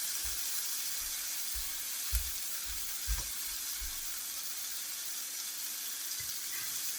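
Sausage sizzles steadily in a hot pan while breakfast is cooked, a constant bright hiss with a few soft knocks and clicks of a utensil against the pan.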